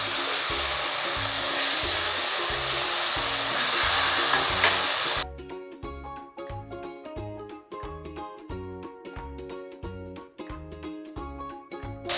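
Tomato puree hitting a hot pan while cooking Amritsari chole: a loud hissing sizzle lasting about five seconds over rhythmic background music, then the sizzle cuts out and only the music continues.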